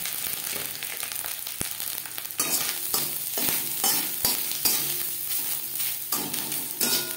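Grated coconut frying with cumin seeds and chili on a low gas flame, stirred with a steady scraping rhythm over a continuous sizzle, close and fairly loud, with no one talking.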